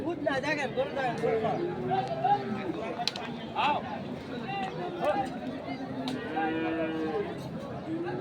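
Cattle, including large bulls, mooing at a crowded livestock market in Chandpur, with several loud, drawn-out lows close by over a busy background of people talking.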